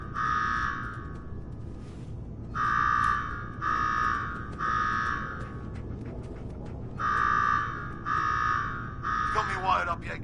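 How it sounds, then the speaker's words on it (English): A video game alarm sounds in repeated buzzing pulses, each about a second long, coming in groups with short gaps, steady in pitch over a low background hum, with a brief voice near the end. "Now go shut off that damn alarm."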